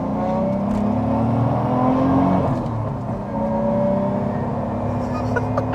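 Heard from inside the cabin, the engine of a 1997 Toyota Chaser Tourer V drones and climbs through the revs while the air conditioning is on. The hum is steady and fairly loud, swelling briefly midway, with no speech.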